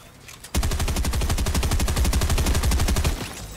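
Automatic gunfire in the video game Fortnite, a loud rapid burst of evenly spaced shots that starts suddenly and runs without a break for about two and a half seconds.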